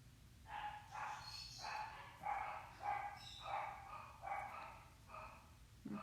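Puppies bark repeatedly in quick bursts, small-sounding yappy barks with brief pauses between volleys, a little distant and fairly faint.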